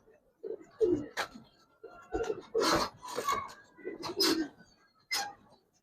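Giribaz and coloured pigeons coo in a loft, a close series of soft, low, throaty coos in short separate bursts with brief pauses between them.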